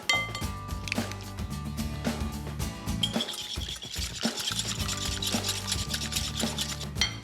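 Dry pancake ingredients and a pinch of salt being whisked together in a bowl make a close, continuous scraping and rubbing with light clinks against the side, stirring steadily with a brief pause midway and no voices.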